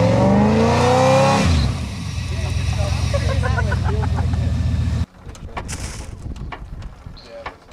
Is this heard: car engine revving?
yes